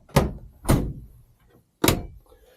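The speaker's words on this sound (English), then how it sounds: "They're opening doors outside, and it's warning us that the doors are open." Three heavy door thunks, two close together and a third after a pause, sound from outside a Wingamm Oasi 540.1 compact RV. They are loud and near, with quiet between them.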